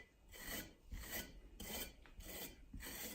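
A trowel scraping wet plaster tight into a corner, four or five close, rasping strokes in a steady back-and-forth rhythm, faint and with no talk.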